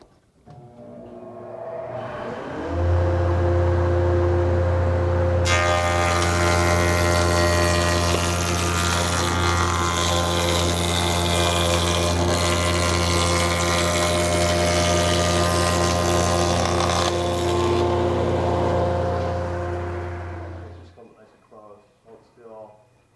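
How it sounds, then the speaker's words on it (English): A MiniMax C26 Genius combination woodworking machine with a spinning blade cutting a rabbet along the full length of a board: a loud, steady motor drone with a harsher cutting roar in the middle, and someone talking over it. "as I make this long cut along the entire length of the board for this rabbet, this safety piece will keep my hands away from that spinning blade"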